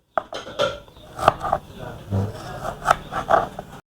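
A knife slices tomatoes on a board for a spicy seafood noodle dish, giving a handful of close, crisp taps and scrapes spaced irregularly across a few seconds.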